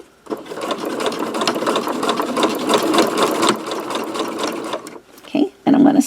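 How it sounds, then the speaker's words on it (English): A sewing machine stitches backward, then forward along a zipper, running as a steady close whir for about five seconds before stopping, followed by brief mechanical clicks and short restarts. "I want to back stitch a couple of stitches and then start sewing forward"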